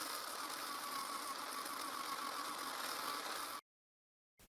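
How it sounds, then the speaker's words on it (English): A homemade disc sander hums at a steady, moderately loud pitch with no talk, running evenly for a few seconds before cutting off abruptly into silence, followed by one brief faint bump. "with the homemade disc sander I get a perfect edge"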